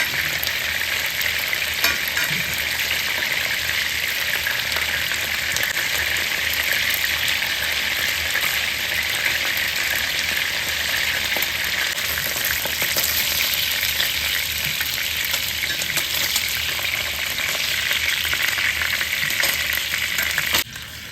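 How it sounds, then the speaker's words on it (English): Salmon frying over high heat in a HexClad pan, a dense, loud, unbroken sizzle and crackle that runs steadily throughout, close up and with no voices. "I just finished cooking the salmon."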